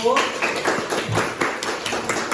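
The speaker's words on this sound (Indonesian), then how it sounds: "Kita berikan aplaus untuk kelompok 1" Brief applause from students in a junior high school classroom for the first group, quick scattered claps with a teacher's voice speaking over them.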